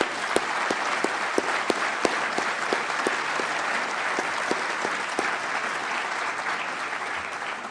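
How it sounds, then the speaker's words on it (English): A large audience at a defense event gives sustained applause, a dense even roar of clapping with regular sharp individual claps cutting through, steady for several seconds and fading slightly at the end. "Let's give Bud a big round of applause, one of my mentors."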